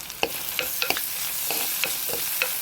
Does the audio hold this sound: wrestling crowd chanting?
no